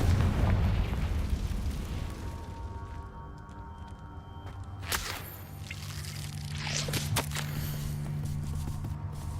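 Bombarda and Confringo spells explode in Hogwarts Legacy. A rumbling low blast fades out, then two sharp cracking bursts follow a few seconds apart over a steady low background hum.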